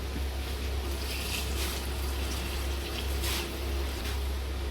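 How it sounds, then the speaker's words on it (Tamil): Steady rushing water pours continuously into a cooking pot for chicken biryani, a broad even splashing wash with no pauses and no talk. "தண்ணி ஆட் பண்ணிக்கலாம்."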